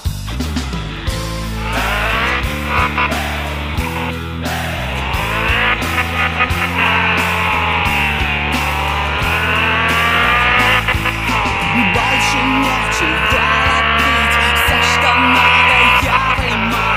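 A car engine roars and revs loudly as the car drives off, rising and falling in pitch as it accelerates and shifts gears, continuous and close throughout.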